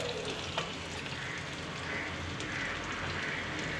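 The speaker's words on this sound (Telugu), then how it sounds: "మరీ ఎక్కువ వేగిపోవడం అవసరం లేదు కొంచెం దోరగా ఇలాగా వేగితే సరిపోతుంది" Raw plantain pieces frying in a pan, a steady close sizzle with crackling spatter running throughout, no voices.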